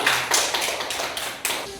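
A classroom gives brief applause for a student's answer, with a short burst of uneven hand claps that fades within two seconds, close and loud, with no talking.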